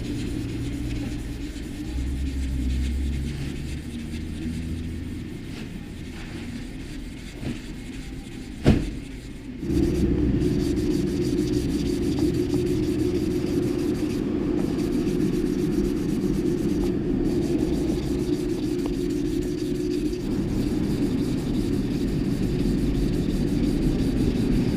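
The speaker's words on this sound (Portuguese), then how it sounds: "a gente vai fazer a abertura com uma lixa 800 na Rokit com interface" A Rokit sander fitted with an interface pad and 800 grit sandpaper works over car paint where only clear coat will go. A brief knock comes first, then a close, steady, loud whirring rumble runs without pause.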